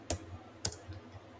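Two sharp keystroke clicks on a computer keyboard, spaced about half a second apart, followed by faint softer taps, close and quiet in an otherwise still room.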